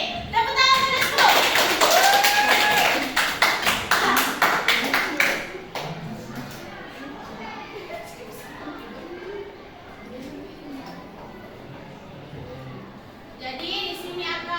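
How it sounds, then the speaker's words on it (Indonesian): Children in a classroom clap together in a loud, quick burst lasting several seconds, then it fades into murmuring voices and a teacher talking, with another short round of clapping near the end. "Tepuk tangan terus."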